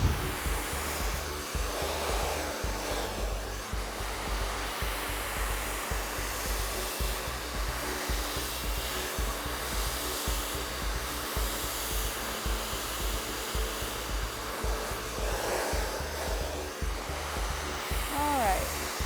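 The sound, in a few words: hair dryer blow drying hair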